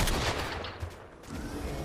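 Rapid gunfire in the Fortnite video game, heard as a close, loud, continuous burst of shots that dips briefly and then picks back up.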